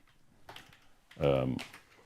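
Soft tapping of keys on a computer keyboard comes in scattered clicks, with a short burst of voice breaking in partway through.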